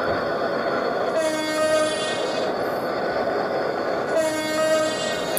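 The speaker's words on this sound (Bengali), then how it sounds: "এটা হচ্ছে অরিজিনাল হর্ন" A locomotive horn in a train simulator game blasts twice, each long chord-like blare lasting under a second, separated by a pause over a steady rumbling train background; the original horn of a 6600 series locomotive.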